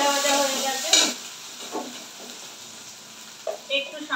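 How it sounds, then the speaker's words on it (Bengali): Green beans crackle and sizzle in a pan while a utensil stirs them, with several distinct scraping strokes over the frying hiss close by. "বিনসগুলো দেখো খুব ভালো ভাজা ভাজা হয়ে গেছে।"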